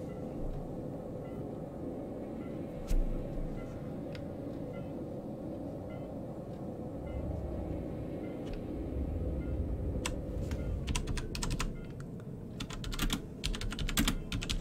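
Computer keyboard typing during a Star Citizen play session, with light, soft key taps over a constant low engine hum, becoming denser and more distinct clicks in the final few seconds.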